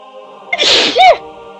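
A single sharp, close sneeze bursts out after a short quiet stretch, loud and breathy, then fades quickly back to near silence.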